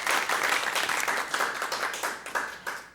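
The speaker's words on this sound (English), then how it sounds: "Big round of applause for both schools." Audience applause for two competing high school quiz teams, Cooper City and Millennium, at a televised academic quiz show, steady dense clapping filling the moment without speech.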